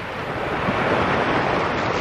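Sea waves wash steadily onto a beach during a morning walk, a continuous broadband surf roar mixed with wind buffeting the microphone, with no voices.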